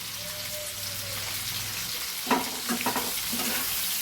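Onions sizzle in a pan with added salt over rising heat, a continuous crackling fry joined later by a few sharper spatters and stirring clatters up close.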